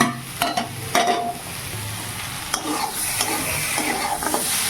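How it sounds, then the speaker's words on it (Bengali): Cauliflower and potato curry with radish and eggplant cooking in a pan, stirred with repeated scraping strokes over a close, steady frying sizzle. "ফুলকপি আলুর তরকারি করছি মূলো বেগুন দিয়ে"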